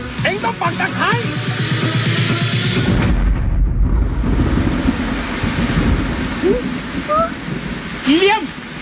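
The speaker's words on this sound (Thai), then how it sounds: "ฝนกำลังจะตก" Steady rain and rumbling thunder from a scene in a Thai film, loud and continuous, with a deep thunder roll and scattered crackles over the downpour and no clear talking.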